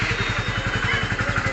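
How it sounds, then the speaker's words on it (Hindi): A BS6 motorcycle engine, started on the self-start button, idles with a steady, even low thumping pulse up close, running continuously without any revving. "हम यहाँ पे सेल्फ दबाएंगे"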